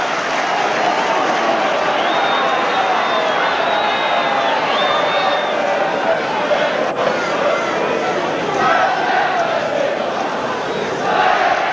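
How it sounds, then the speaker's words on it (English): Big rugby league crowd of Hull Kingston Rovers fans playing Leeds, a steady loud roar of cheering and chatter that runs the whole way without a break and swells briefly near the end. "Very happy Rovers crowd, all going their way at the moment."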